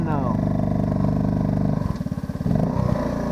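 A vehicle engine runs low in first gear, a loud, steady rumble that throbs unevenly midway before settling back to a continuous drone.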